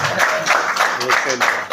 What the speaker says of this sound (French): Est-ce que vous pouvez applaudir pour les solutions?